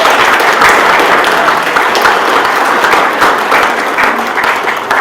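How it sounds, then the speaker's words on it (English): Dense, loud applause from the audience at the 2019 COROART art awards ceremony, a steady wash of many hands clapping throughout without a break. "let's give everybody a round of applause"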